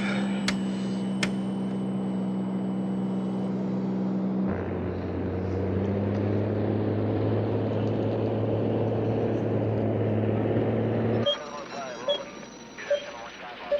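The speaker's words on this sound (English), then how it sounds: "Unidentified aircraft on final for runway 36." Propeller aircraft engine on final approach for a runway, a steady droning hum with strong low tones that shifts pitch partway through, heard under radio-style talk, then cutting to a noisier, rougher stretch at the end.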